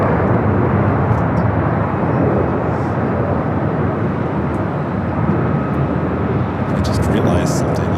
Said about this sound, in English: The Lufthansa Queen. She's heading up here for north side at takeoff.